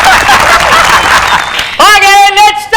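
Stage audience at a TV entertainment show clapping loudly for almost two seconds as a singer is introduced, then the applause stops and a voice takes over.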